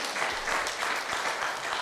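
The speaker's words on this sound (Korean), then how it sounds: "박수로 축하합니다." A church congregation applauds during a Sunday worship service, steady dense clapping filling the room for the whole stretch with no talk over it.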